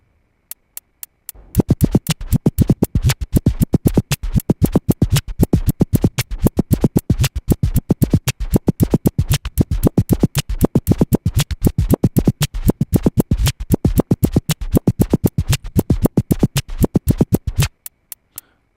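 Rapid, steady drum scratching hits repeat at double speed in a fast, tight rhythm for about sixteen seconds, loud and close, then stop abruptly.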